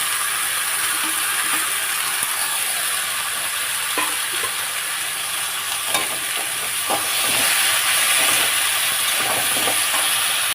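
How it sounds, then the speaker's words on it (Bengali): Thin-cut taro stems frying with shrimp in a pan, giving a steady close sizzle and hiss throughout with a few stirring clicks and scrapes, no talking. "এই চিংড়ি মাছ দিয়ে এই কচুগুলো সরু সরু করে কেটেছি, এটা ভাজবো।"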